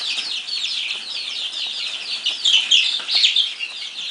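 A pen of young, growing chicks peeping and cheeping in a dense, continuous high-pitched chorus, close and lively, with a few louder chirps standing out near the end.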